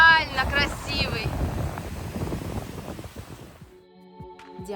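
Ocean surf rolls in at Diani beach on the Kenyan coast, a steady wash of waves with gusty wind buffeting the microphone while a person talks over it.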